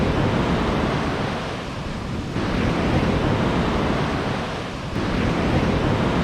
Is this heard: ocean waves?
yes